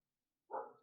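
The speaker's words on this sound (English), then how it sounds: "and that's my dog." A single short dog bark, quite faint, rising after a silent pause and trailing off, with no talk over it.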